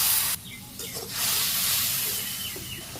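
Ginger, garlic, onion and spices with salt, turmeric, chili and coriander powder sizzle in a pan after a splash of water, a steady loud hiss with a brief dip early on and no talk.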